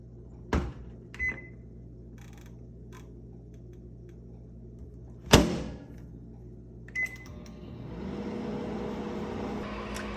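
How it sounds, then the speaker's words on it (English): A kitchen microwave oven on its defrost setting: a few sharp door and button clicks and short beeps, then a steady low running hum that starts and continues to the end. "I'm gonna put it in the microwave on the"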